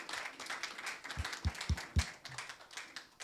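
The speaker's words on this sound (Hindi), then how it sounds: "अपने पैरों में आके उनके लिए ताली बजा के अप्रिशिएट कर सकते हैं।" Audience at a Hindi church sermon applauding the worship team, a brief burst of a few loud claps near the middle over a quiet hall.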